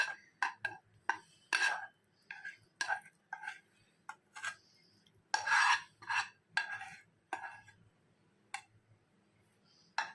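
A coconut burfi mixture is spooned and pressed into a ghee-greased box, giving a series of short, close scraping and tapping knocks at an irregular rhythm, with no talk over them.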